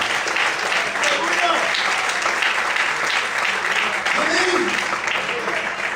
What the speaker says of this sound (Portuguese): Você pode aplaudir, Senhor?